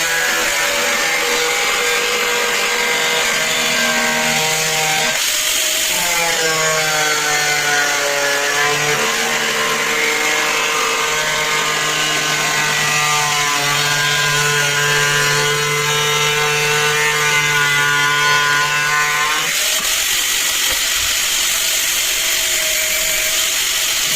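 An angle grinder cutting through a hylam board, a loud continuous whine that shifts pitch as the disc bites and eases, running unbroken for about twenty seconds.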